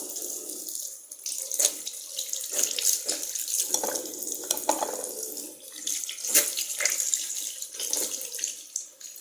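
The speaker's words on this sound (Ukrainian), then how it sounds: "Будемо мити руки." Water runs steadily from a tap into a sink, with splashing and shifting spatter as hands move under the stream. No talking.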